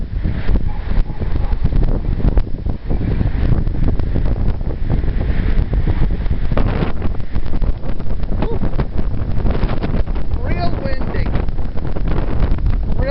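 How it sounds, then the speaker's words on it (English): Strong wind gusts roar steadily across a berry garden in western New York, buffeting the microphone with continuous low rumble throughout, with a voice talking faintly over it. "Real windy, very windy."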